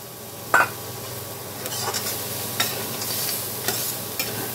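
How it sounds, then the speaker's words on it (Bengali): Radish greens fry together with fried eggplant and lentil bori, a soft steady sizzle broken by a sharp clank near the start and several light stirring scrapes. "এখন এই বড়িটা আর বেগুনটাকে দিয়ে আরও আমি 1 থেকে 2 মিনিট এই শাকটাকে একটু ভেজে নেব"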